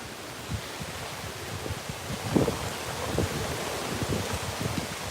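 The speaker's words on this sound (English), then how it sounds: "See the gusts? The gusts is what the problem is." Steady roar of strong hurricane wind (Hurricane Zeta, New Orleans) with rushing gusts swelling and fading, noisy and continuous like a storm buffeting the microphone, no voices.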